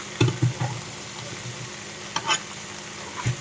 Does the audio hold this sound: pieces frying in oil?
yes